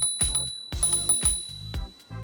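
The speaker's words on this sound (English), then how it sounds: "You also have a convenient bell right here." A small handlebar bell on a NAVEE UT5 Max electric scooter rings in quick repeated dings, each with a thumping knock under it, several strikes in about two seconds.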